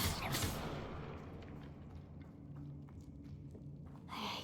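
A Bombarda blasting spell explodes in the Hogwarts Legacy video game, a loud, heavy, booming blast at the start that rumbles away into low ambience, followed by a softer burst near the end.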